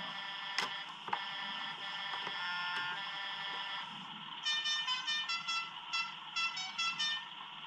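A continuous horn tone from an RC model's sound module, driven through a RadioLink receiver on channel 4, sounding steadily and then breaking into a rapid series of repeated beeping pulses toward the end.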